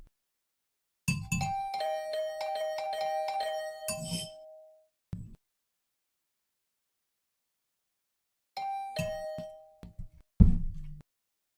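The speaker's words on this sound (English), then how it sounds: "The usual morning announcement was drowned out by the sound of my doorbell ringing over and over" Doorbell in the video game The Hundred Line chiming over and over in quick bursts, bright ringing tones in a rapid cluster, a pause, then another shorter volley, alone and clear.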